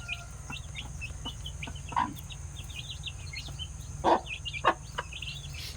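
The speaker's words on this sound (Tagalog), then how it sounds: "Ang Rhode Island Black namin na manok." Rhode Island Black chickens cluck in short, scattered bursts against a steady outdoor hum, with a few louder calls standing out amid quieter background clucking.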